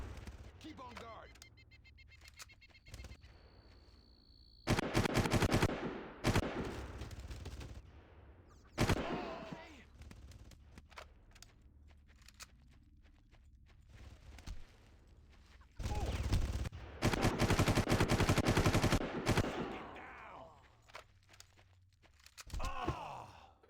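Gunfire in the video game Far Cry on hard difficulty, with loud bursts of rapid automatic fire and single shots that come in clusters. Quieter gaps carry groans and gasping breaths between the volleys.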